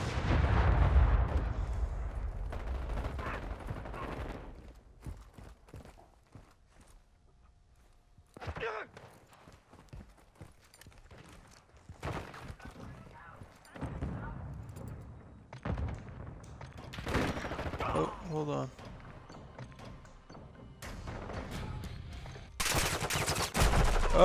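Gunfire in the Modern Warfare 2 beta, a first-person shooter: bursts of loud, sharp shots and blasts come in irregular clusters, with quieter gaps between them, over the player's ongoing talk.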